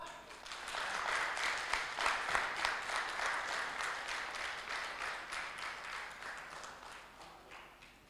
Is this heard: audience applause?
yes